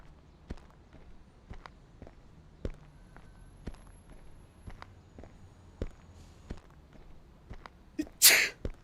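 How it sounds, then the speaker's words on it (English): A single sharp sneeze bursts out near the end, after a steady series of footsteps crunching along at a walking pace. "I sneezed."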